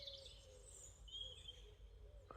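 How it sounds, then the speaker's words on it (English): Birds chirping faintly in open countryside near larch trees, with thin high calls drifting over a steady low rumble and no talking. "If I shut up, you can hear the birds tweeting."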